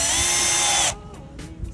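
Power drill driving a screw into wood boards for a rustic backdrop, one loud steady whine for nearly a second that stops abruptly, followed by faint handling clicks.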